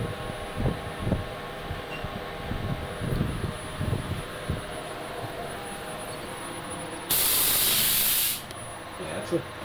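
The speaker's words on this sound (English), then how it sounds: "We use gas eject air to push all the gunpowder gases out." A sudden loud burst of rushing, hissing air lasts about a second as gas-eject air purges powder gases from a gun barrel with the breech open, cutting through low background rumble and muffled knocks.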